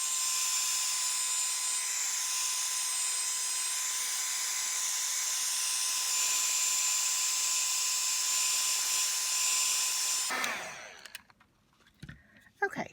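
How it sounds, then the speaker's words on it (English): A heat gun blowing on embossing powder for a shaker tag, a loud steady high-pitched whine and rush lasting about ten seconds before cutting off, followed by faint handling noises. "as I use my heat gun."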